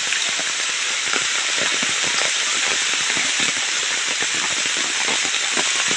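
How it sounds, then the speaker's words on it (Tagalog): Heavy rain falls on a forest during rattan planting, a dense, constant hiss of drops striking leaves and surfaces, loud and close with no break. "Talagang hindi yung aampat ng ulan."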